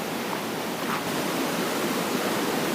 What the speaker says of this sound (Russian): Это первый водопад, до которого я добираюсь через ручей.